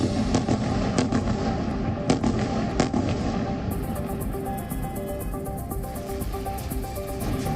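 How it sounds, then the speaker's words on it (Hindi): Bunker buster bombs explode in a Gaza airstrike, heard as dense rolling crackles and booming bursts over a steady rumble, loud and continuous, with a sustained tonal hum running underneath. "बड़ी संख्या में बंकर बस्टर बम गिराए गए, जिसके बाद आसमान में धूल, धुएं और मलबे का गुबार उठता नजर आया"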